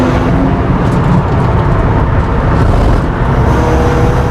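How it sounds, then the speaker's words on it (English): A 400 bhp BMW M135i race car under hard braking on a racetrack, a loud, constant roar of engine and road noise heard from close by, with no talk. "At the back, hard on the brakes now."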